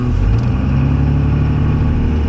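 Cummins 2500 24-valve turbo diesel truck engine revving from inside the cab, a loud low rumbling surge at the start settling into a steady heavy drone.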